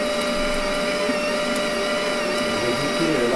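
A steady, loud mechanical whir from a helviLITE192 multi-process welding machine feeding wire out through its torch, droning continuously with a faint tonal hum and no talk over it.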